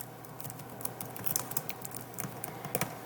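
Keys clatter on a computer keyboard in quick, uneven bursts of soft clicks, close and quiet, with no voices.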